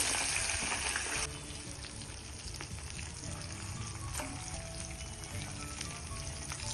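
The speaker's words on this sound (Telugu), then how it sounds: "ఇప్పుడే వేగుతాయి" Raw tamarind pickle ingredients frying in a pan, a steady close sizzle with a faint crackle and a small drop in level partway through, no talking.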